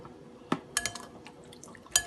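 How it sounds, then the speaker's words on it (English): Beans are rinsed in water in a pot, giving faint sloshing, a few sharp clinks against the pot and light drips in a quiet kitchen. "So I'm gonna rinse it about 3 times, or basically I'll rinse it till the water is nice and clean."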